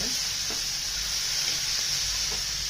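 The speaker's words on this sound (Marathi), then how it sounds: "कांदा कांदा परतून घ्यायचा आता परत परतला गेलाय बघा चांगला" Onions sautéing in a pan for prawn masala give a steady, close sizzle and hiss throughout, with a few faint stirring scrapes and no talking.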